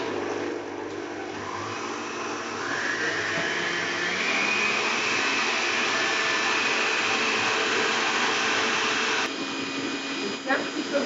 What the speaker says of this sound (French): Vous voyez, mon batteur il est là.